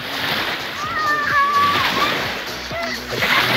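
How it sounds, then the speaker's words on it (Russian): Waves splash and slosh against the shore of the Ob Sea at a swimming spot on a reservoir beach, a continuous watery wash close by, with children's and adults' voices calling out over it. "Ой, волны!"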